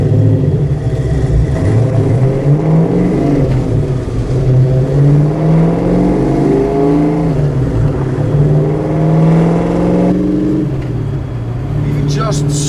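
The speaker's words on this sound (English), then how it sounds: "Even just slowly accelerating, it's just a freaking joy." A 1969 Ford Mustang Mach 1 accelerates slowly, a loud, close, low rumbling engine rising gently in pitch with short dips between gears and a steady whir underneath.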